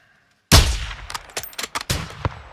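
A single sniper rifle shot from Call of Duty: Modern Warfare II cracks out loud and sharp after a moment of silence. A reverberating tail follows, with a series of short, fainter clicks and thumps.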